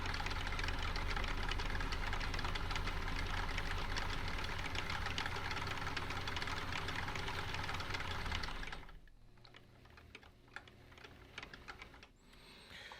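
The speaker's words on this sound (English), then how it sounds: "This is where the power wrapper is awesome." A power wrapper spins a fishing rod while thread is wrapped onto a replacement guide, giving a steady, close motor whir with rhythmic mechanical ticking that runs continuously and then cuts off, leaving faint handling clicks.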